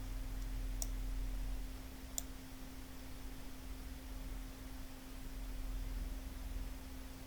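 A computer mouse clicks twice, sharp and brief, during a Microsoft Word simulation exercise, set apart over a steady electrical hum and faint hiss.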